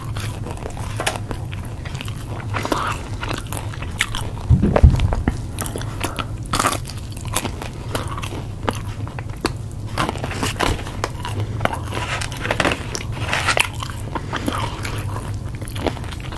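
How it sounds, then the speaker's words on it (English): Crunchy McDonald's Chicken McNuggets being bitten and chewed up close, with repeated crisp crunches scattered irregularly through a quiet background and one heavier bite near the start. "Very crunchy and crispy chicken McNuggets."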